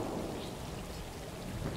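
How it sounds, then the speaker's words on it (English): Steady rain with a low thunder rumble in the video game Stray, a dense constant wash of noise heard close and even for under two seconds, with no voices. "I like the sound of the rain"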